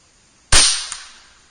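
A single sharp report from an Air Venturi Avenger .25 air rifle firing a 23-grain slug, loud and close, with a short decaying ring and a faint second tick a moment after the shot.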